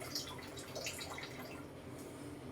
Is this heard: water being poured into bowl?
yes